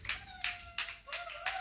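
A congregation claps together during a church intercession service, five broad hand-clap bursts in a steady slow rhythm, moderately loud with a faint sustained tone beneath.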